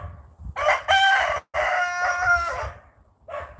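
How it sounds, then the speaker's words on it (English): A rooster crows loudly and close by, one long drawn-out cock-a-doodle-doo broken into strained segments, followed by a shorter trailing call, with no talking. "We got the rooster crowing."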